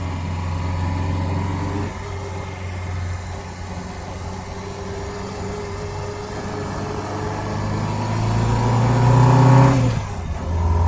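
A three-wheeled fiberglass Robin car engine runs steadily nearby with a low, buzzing drone, swelling louder toward the end as if revved, then dropping back.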